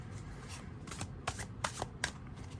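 A tarot card deck shuffled overhand, a series of quick papery card slaps and riffles in irregular bursts, close and fairly quiet with no talking.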